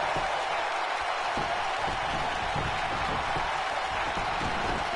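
A wrestling crowd applauds and cheers at an indoor independent show after an elbow drop from the top rope, a steady dense wash of clapping and noise without pause.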